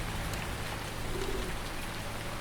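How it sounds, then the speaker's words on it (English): Steady rainfall in the farming game Farming Simulator 19, a continuous dense patter of drops on surfaces, even and unbroken throughout. "probably 12 hours of constant rain"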